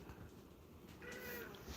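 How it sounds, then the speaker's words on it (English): A house cat gives a short meow near the close, fairly close and soft against steady low room noise. "while I'm petting my dogs and my cute cat Ringo."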